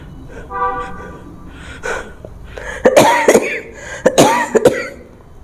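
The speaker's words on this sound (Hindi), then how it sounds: "मुझे खांसी आ जा रही है" A woman coughs repeatedly during a breathing exercise while feeling unwell, in two loud clusters of harsh coughs after a quieter breathy start.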